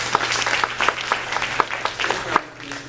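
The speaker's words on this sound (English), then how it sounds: "Give Mary a round of applause." An audience claps at a public forum on a south suburban trauma center, a dense, steady round of applause that tapers off near the end, with a low hum underneath.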